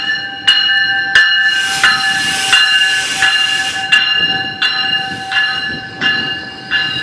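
A subway train made up entirely of new 4000 series cars moves through Danforth station. A loud, steady whine carries over regular rhythmic clanks and thumps, with no voices.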